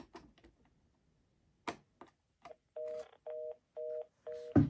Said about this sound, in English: We're actually hearing the relay click as we put it on hold.